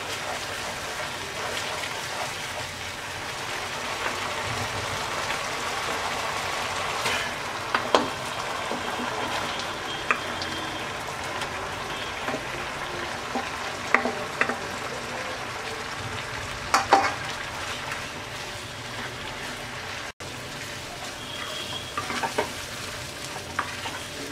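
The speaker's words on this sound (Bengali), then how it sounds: "এবার আমরা আমড়াগুলো দিয়ে দিচ্ছি।" Chopped hog plums (amra) sizzle and fry in a pan for chutney, a steady crackling hiss broken by occasional scrapes and clinks of a spoon stirring, with no talking.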